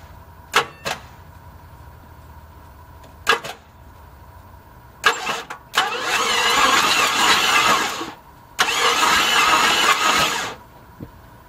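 A Jeep Wagoneer engine being cranked with a jumper: a few short starter bursts, then two longer grinding cranks of a couple of seconds each, close by, with the engine not catching.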